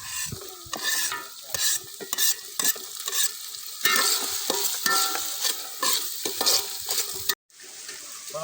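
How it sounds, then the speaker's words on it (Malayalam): Coconut pieces sizzle and fry in a pan for a beef curry, with loud, close stirring that scrapes and clacks in an irregular rhythm throughout. A brief break near the end is followed by more steady sizzling. "ഇനി കുറച്ച് തേങ്ങ കൊത്തിട്ട് കൊടുക്കാം."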